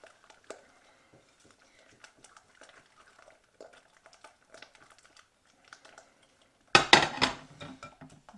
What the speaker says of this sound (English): if you give it a little bit of a beating with a whisk